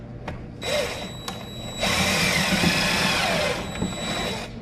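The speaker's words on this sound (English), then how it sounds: "I'm not going to drill through, and then I'm going to drill up at an angle." A power drill whirs in short bursts, then runs steadily for a couple of seconds as it bites into wood at an angle, close and fairly loud.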